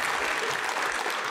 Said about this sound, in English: Can we have another round of applause for Sahar?